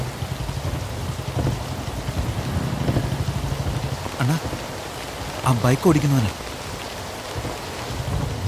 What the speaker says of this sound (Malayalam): കുഴപ്പമില്ല മഴയല്ലേ ഈ കൊടയും കൂടെ എടുത്തോ